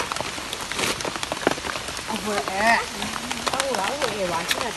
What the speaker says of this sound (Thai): นี่ฝนตกแล้ว